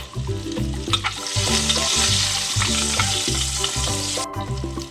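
Dried red chillies, turmeric, crushed garlic and curry leaves sizzle in hot oil for curry leaf chutney, with a steady loud frying hiss broken by rhythmic stirring scrapes, and no talking.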